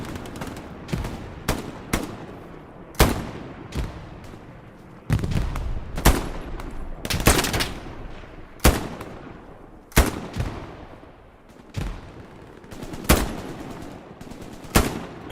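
Machine gun fire and other gunshots in the World War II shooter Hell Let Loose, with loud, sharp reports in short bursts and single shots spread irregularly over the battle, some close and some more distant.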